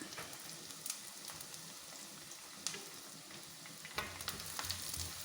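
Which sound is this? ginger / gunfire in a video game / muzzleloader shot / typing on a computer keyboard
ginger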